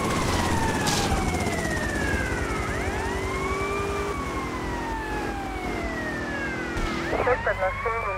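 A police car siren wails in GTA Vice City, its rising and falling tones sweeping repeatedly over a busy rumble of traffic and game noise, loud and near, with several siren voices overlapping toward the end.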